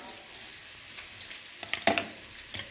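Potatoes sizzle in a pan for aloo dum, a soft continuous frying hiss with a few brief louder crackles and stirring clatters near the end.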